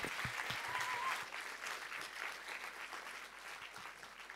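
Audience applause after a lecture by Jack Halberstam, a dense sustained clapping from a room full of listeners that swells briefly at the start and then holds steady.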